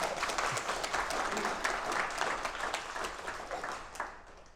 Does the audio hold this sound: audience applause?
yes